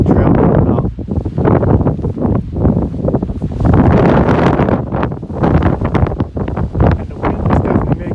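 Strong gusty wind buffets the microphone on the snowy West Bond summit in New Hampshire's White Mountains, loud roaring bursts rising and falling throughout, with a voice faintly mixed in.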